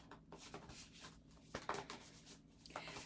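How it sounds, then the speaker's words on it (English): A tarot card deck is shuffled by hand, giving soft papery riffles and rubbing bursts in an irregular rhythm, close and quiet with no talk. "Let me do some shuffling and see what comes up."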